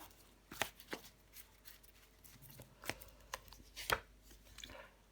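Tarot cards handled on a table during a reading, one card laid over another: a few soft, scattered slaps and brushes of card against card, close and quiet, with no talking.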